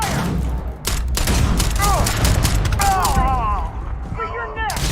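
Video game gunfire in Starfield: loud, rapid bursts of shots layered with explosive booms and whizzing effects, while voices shout over the combat.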